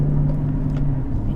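Aston Martin DB11 V12 heard from inside the cabin while cruising in comfort mode: a steady, low, muted engine drone with no revving.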